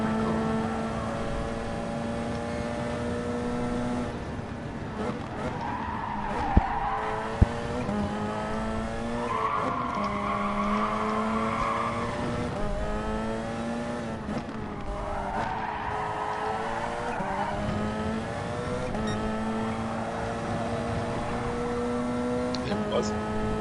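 A Mazda Group 1 endurance race car in GT Sport at Spa roars continuously, its engine pitch climbing and falling through gear changes, with occasional tyre squeal and a brief knock.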